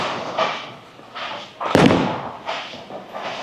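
Bowling ball crashing into pins at a lane during a game with a new Stealth Hybrid ball, a single loud impact and clatter near the middle, with quieter rolling and lane noise around it.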